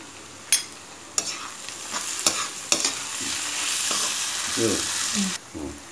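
Stuffed bitter gourd roasts in a pan with a continuous sizzle, broken by several sharp scrapes and clacks of a spoon stirring against the pan, up close and loud.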